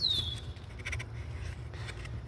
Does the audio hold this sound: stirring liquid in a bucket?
no